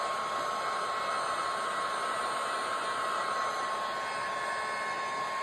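Heat gun or hair dryer blowing over resin for an ocean-theme clock, a steady, even airy roar with a faint high whine, constant throughout and close by, no voices.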